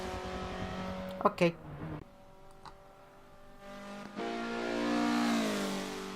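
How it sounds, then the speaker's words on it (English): A Mazda race car laps Road Atlanta, its engine droning in clear harmonic tones that dip as the driver lifts, then climb again in a long, loud rising rev, with a few sharp knocks and a voice speaking briefly. "this was on the car's first lap around Road Atlanta"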